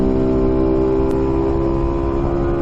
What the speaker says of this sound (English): He wanted this loud exhaust.